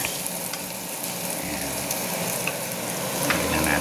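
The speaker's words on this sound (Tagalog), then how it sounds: "Medyo mag brown na yung bawang guys." Garlic fries in oil until it browns, giving a continuous dense sizzle close up that swells slightly toward the end, with no voices.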